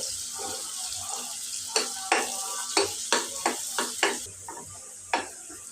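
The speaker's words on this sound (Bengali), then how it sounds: "পেঁয়াজটা দিয়ে আমি হালকা করে একটু ভেজে নেব" Onions frying lightly in a pan for a tengra fish dish, a steady hiss of sizzling oil with a series of sharp scraping stirs in an irregular rhythm, close and moderately loud, no talking.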